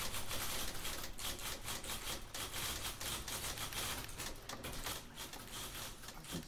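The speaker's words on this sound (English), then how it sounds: "Alright, typewriters are fading out." Dense, rapid typewriter key clatter from The Beginner's Guide video game, a steady busy stream of overlapping mechanical clicks at even loudness throughout, with no talk over it.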